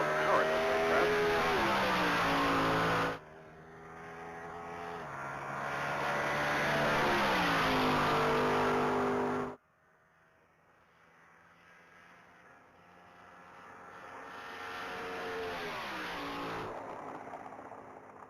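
A race car roars past on a top speed pass at the Texas Mile, its engine note rising and falling through gear changes, loud at first and then fading into the distance before swelling again.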